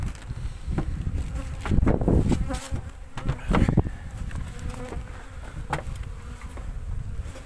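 Honeybees swarming at a full hive in late spring, a dense, continuous buzzing close by with occasional louder passes of individual bees.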